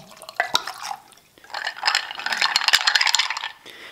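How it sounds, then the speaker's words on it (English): An apple-spiced drink is poured over ice in a glass, with splashing liquid and ice cubes rattling and clinking for a couple of seconds after a few opening drips and taps. "I prefer iced, so right over ice, I'm gonna pour it."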